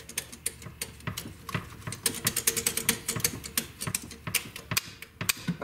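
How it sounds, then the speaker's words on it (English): Rapid keystrokes on an old IBM Selectric typewriter clatter in irregular bursts, crisp sharp clicks close by, with no voices. "Let's listen to the keys."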